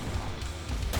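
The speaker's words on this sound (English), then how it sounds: "Look at how long they shoot at you after they die." Enemy gunfire in the video game Anomalous: a dense, continuous roar of rapid shots that stays loud and unbroken through the whole second, with no talk.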